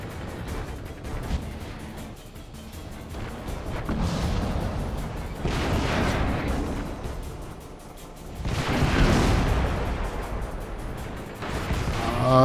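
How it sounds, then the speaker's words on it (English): Tank cannon fire and incoming shots in the World of Tanks video game during a firefight, with several heavy booming bursts and crashes rising and falling across a dense, loud battle din, no talk. "We're getting shot at from a distance."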